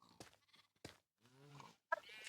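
Sheep bleating in a Minecraft One Block game, several separate short bleats in sequence, clear and close with quiet gaps between.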